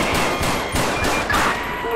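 Gunfire in GTA 5 during an LSPDFR police patrol mod session set in Madrid, a rapid fusillade of repeated loud shots packed tightly together, close and dense, with no talk heard.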